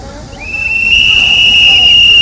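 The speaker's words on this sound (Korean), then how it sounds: "호루라기 한번 볼까요?" Whistles blown at a broadcast workers' union press conference in Korea, a shrill sustained whistle tone that starts faint and swells into a loud, steady blast, with crowd noise beneath.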